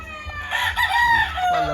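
Rooster crowing close by, one long rising-then-falling call with a strained, harmonic-rich voice and a faint low background hum, set among a farm owner's breeding fowl.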